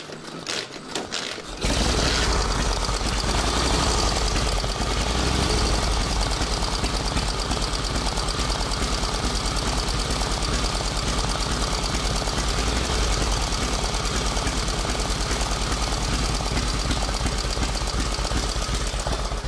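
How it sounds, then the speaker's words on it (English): An antique single-cylinder motorcycle engine with exposed intake and exhaust lifters sputters to life after a brief pause, then runs steadily and loudly with a rapid, chugging, knocking rhythm up close. "you drop the compression release and it should fire right up"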